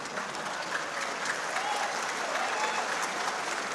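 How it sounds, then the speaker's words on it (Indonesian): Steady applause from an audience at a political speech, a dense even patter of clapping heard from a moderate distance throughout. "Tenang, tepuk tangan lagi. Ya, tepuk tangannya keras tambahi."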